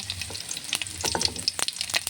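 Mustard seeds crackle and pop in hot oil, a steady run of sharp, close spluttering bursts over a low sizzle.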